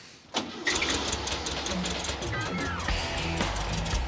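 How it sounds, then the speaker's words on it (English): A Volkswagen engine cranks with a sharp start, then catches and settles into a steady mid-pitched idle with a ticking rhythm, heard up close while a person speaks briefly. "if I get somebody to start the engine up"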